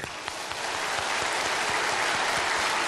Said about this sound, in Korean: 나는요, 일단 박수 좀 쳐줘봐.